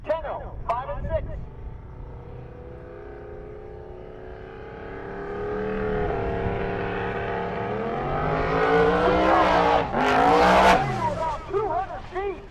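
A drag race car launches and accelerates hard down the strip, its engine roar rising steadily in pitch and loudness to a harsh peak before fading, with an announcer talking over the run.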